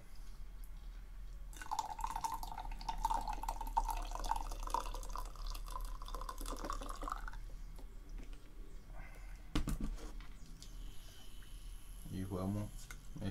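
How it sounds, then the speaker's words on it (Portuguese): Hot water is poured into a cup of milky coffee, a steady trickling pour lasting several seconds, followed by a spoon clinking and stirring in the cup, close and fairly quiet. "Vamos botar um pouquinho de água quente."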